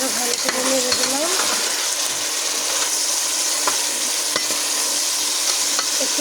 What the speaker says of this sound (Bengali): তরকারি আমি আবারও ভালো করে নেড়ে দিলাম।